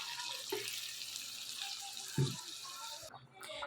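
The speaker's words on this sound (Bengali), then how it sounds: "এবার আমি এতে পরিমাণ মতো জল অ্যাড করে দেবো" Water poured into chicken curry cooking in a pot gives a steady close splashing and trickling pour with a couple of soft clunks, ending in a brief stop.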